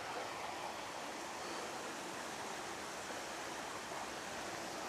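Water rushes steadily out beneath a small bridge below a lodge, a continuous broadband roar that holds even and unbroken throughout, with no voices.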